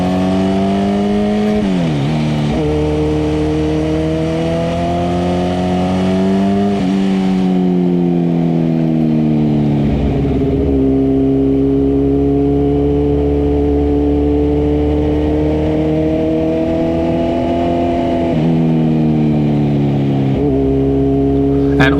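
A Kawasaki Ninja ZX-10R liter-class sport bike engine revving at moderate height, loud and close, with several rising and falling rev sweeps over a continuous idle drone, no voices.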